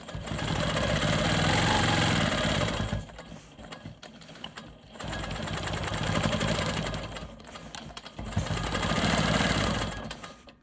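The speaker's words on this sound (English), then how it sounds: "now I'm going to quilt my straight lines" A Quilt Maker Pro 20 sewing machine runs in three long, steady bursts while quilting straight lines, its motor hum and rapid needle clatter loud and close, separated by brief pauses.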